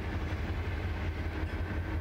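A Keokuk Junction Railway freight train led by GP-20 locomotives rumbles by at close range, its cars giving a steady loud roar with light rhythmic clatter, no voices present.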